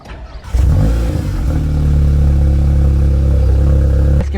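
Volkswagen Scirocco with a newly fitted aggressive aftermarket exhaust and turbo starts and revs, a sudden loud engine note rising into a sustained deep rumbling roar that holds close and steady before cutting off.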